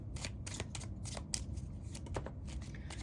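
Tarot cards being shuffled close up, a quick run of soft riffling flutters and slaps in an otherwise quiet room.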